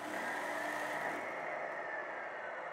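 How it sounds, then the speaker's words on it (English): Engine-brake effect from a Tamiya multi-function sound unit on an RC truck, a quiet synthetic diesel rumble with a steady mid-pitched rattle and hiss that holds for nearly three seconds, without speech. "There's also an engine brake feature."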